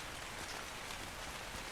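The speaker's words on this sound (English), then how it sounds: "I think this is the first time it started raining at all since I've been on Scorched Earth" Rain falls in the ARK Survival Ascended game on the Scorched Earth desert map, a steady, even hiss of rain pattering, faint and unbroken throughout.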